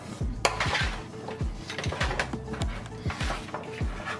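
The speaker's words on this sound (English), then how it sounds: "You got your peppers, onions, potatoes, and mushrooms. Just mix them all together." Peppers, onions, potatoes and mushrooms being stirred together in a pan for a spicy goat dish, with a utensil making repeated rhythmic scraping and clanking against the metal, close and continuous.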